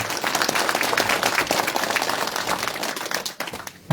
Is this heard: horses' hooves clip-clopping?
no